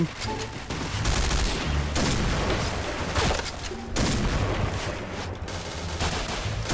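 Rapid bursts of G36C rifle fire in the Point Blank shooter game, loud and dense, with automatic volleys recurring through the scene and brief pauses between bursts.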